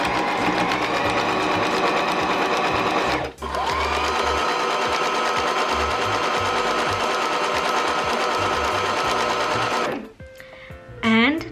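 A sewing machine runs steadily through scrunchie fabric, a loud continuous mechanical whir with a brief stop near the start and another toward the end, followed by a short clatter.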